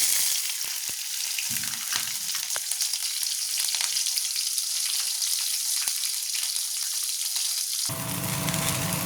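Okra frying in a pan with garlic and chili, a loud steady sizzle with occasional stirring clicks and scrapes, ending in a brief burst of stronger crackling.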